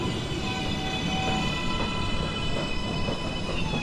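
A New York subway 2 train sits at a station with a steady hum and rumble, moderately loud and constant, with no voices.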